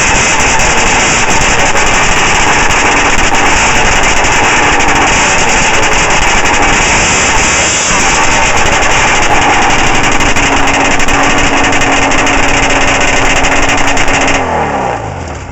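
A 1993 Arctic Cat Wildcat 700 EFI snowmobile engine runs with a straight pipe, its muffler baffle removed. It holds a loud, harsh, steady roar close by before easing off at the very end.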